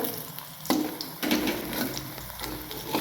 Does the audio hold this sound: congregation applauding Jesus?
no